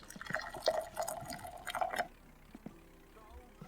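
Coffee pouring in the video game My Winter Car, a short trickling, dripping liquid sound for about two seconds, fairly quiet, followed by faint handling noises.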